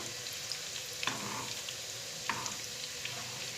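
Garlic frying in oil in a pan, a faint, steady sizzle with two brief stirring scrapes, quiet and close, no voices.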